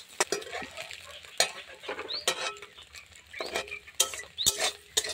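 Egg fries in a pan for chowmein while a spatula stirs it, making sharp irregular scrapes and clinks over a low sizzle, close and fairly loud, with no talking.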